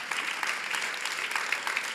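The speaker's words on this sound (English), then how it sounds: "I'm not used to being clapped for." A church congregation applauding during a Sunday service, a steady wash of many hands clapping throughout, loud and even with no voices on top.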